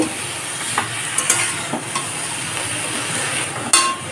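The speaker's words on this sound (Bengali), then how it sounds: "এখন গ্যাসটাকে লো ফ্লেমে রেখেই ভালো করে নাড়াচাড়া করে নেব।" A spatula stirs drumstick flowers with salt and sugar in a pan over a low flame. A soft, continuous sizzle runs under repeated sharp scrapes and taps of metal against the pan.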